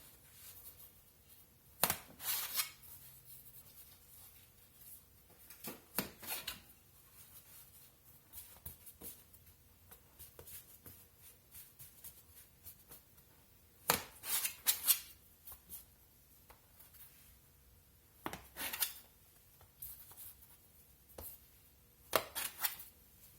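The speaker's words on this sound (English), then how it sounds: "I'm going to go in here and cut these up." A knife chops through soft bread dough on a board, cutting it into pieces for skillet pull-apart rolls. Quiet, crisp taps come in short irregular clusters with pauses between them.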